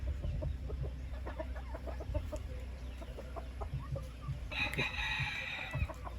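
A pure Golden Boy pullet chicken clucking, with short soft clucks scattered over a steady farmyard background and a rooster's crow rising briefly near the end.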